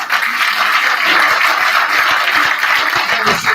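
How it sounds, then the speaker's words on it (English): A room full of people giving a round of applause at a Sabbath gathering, dense steady clapping sustained throughout without a break. "Okay, so give them a round of applause."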